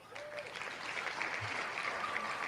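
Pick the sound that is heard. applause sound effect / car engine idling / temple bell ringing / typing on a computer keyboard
applause sound effect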